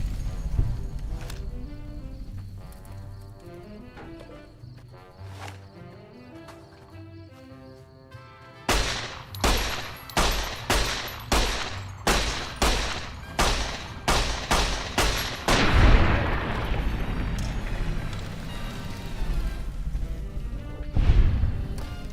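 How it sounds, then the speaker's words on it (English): Gunfire in Fallout: New Vegas: after a stretch of music, a long run of loud, evenly spaced shots rings out close by, ending in a heavier crash and blast. "That's a lot of bullets."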